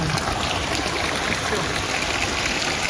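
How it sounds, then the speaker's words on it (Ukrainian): Floodwater from the street pours into a yard in a steady, loud, unbroken rush, with no voices over it. "це вода з вулиці нам у двір"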